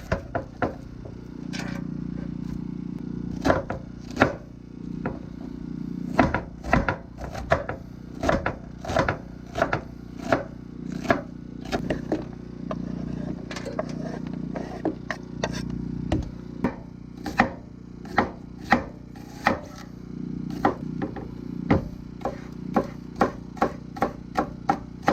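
A yellow onion is chopped with a Bowie knife on a board at a cold truck campsite: irregular bursts of sharp, close knocks, sometimes in quick runs and sometimes spaced apart, with no talking.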